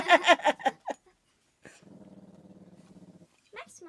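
A low, rumbling dog growl holds steady for over a second, close up, after a burst of nearby talking; a voice speaks again as it ends.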